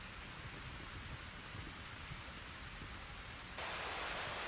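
Heavy pouring rain in the Eternal Sonata video game, a dense steady hiss of downpour filling the whole clip, growing slightly louder and brighter at the very end, with no voices.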